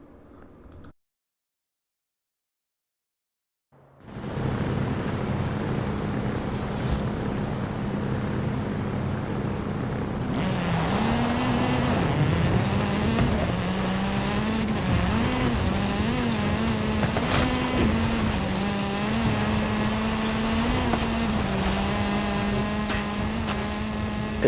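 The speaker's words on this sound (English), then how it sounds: "It sounds like a Lamborghini off to my right with the sound of their engine" A steady roaring Lamborghini engine in a video game drones continuously after a brief silence, its pitch wavering slightly as it runs, loud and close with no talking.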